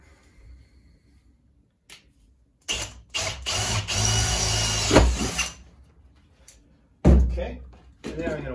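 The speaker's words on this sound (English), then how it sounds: "So, we're going to drill this out." A power drill bores through metal close by outdoors, a loud whining burst of a few seconds, then a second shorter burst after a pause, with brief clicks and handling noises between.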